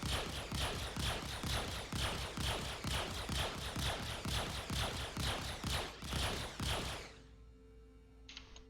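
Plasma gun turrets on an RSI Constellation Phoenix ship in Star Citizen fire a long, steady rapid volley of evenly spaced loud pulses, then cut off abruptly into a quiet electronic hum.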